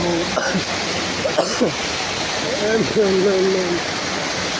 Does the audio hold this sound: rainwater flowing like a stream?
yes